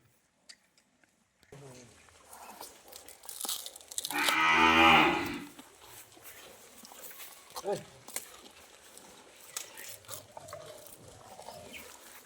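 A cow lets out one loud, drawn-out moo up close on a cattle farm, amid quieter farmyard shuffling and someone talking nearby.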